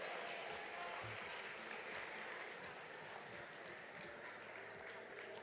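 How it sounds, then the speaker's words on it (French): Audience applauding the 32 selected cat breeds at the finale of a cat show at the 2024 Salon de l'Agriculture in France, a steady wash of clapping filling a hall, moderately distant with some crowd murmur. "Merci de les applaudir bien fort."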